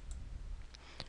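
A computer mouse clicks a few times, faint and sharp, while print settings are set up for edible cake printing; the clicks are sparse over a low steady background hum, with no talking.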